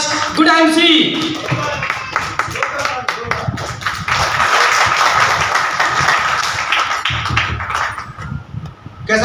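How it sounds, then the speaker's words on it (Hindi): Audience applause at an IMC business meeting in Bombay Market, Umarvada: sustained crowd clapping of moderate loudness, heard alongside someone speaking through the opening and more talk over the claps. "तो आप सभी लोगों के लिए एक जोरदार ताली होनी चाहिए"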